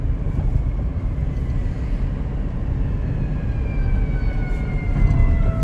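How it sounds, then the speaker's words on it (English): A truck drives nearby, its steady low engine and road rumble filling the scene without a break and swelling slightly toward the end, with no talking. "I hear the truck"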